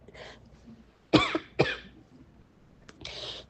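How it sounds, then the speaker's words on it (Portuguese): Two sharp, close coughs in quick succession, with quieter breathy sounds before and after. "de vez em quando eu acho que eu tossi"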